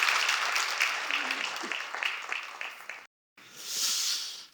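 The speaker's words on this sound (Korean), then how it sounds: "우리 박수 한번 주시기 바랍니다." A church congregation claps together in a steady wash of applause that fades slightly, breaks off briefly, then swells again in a softer burst.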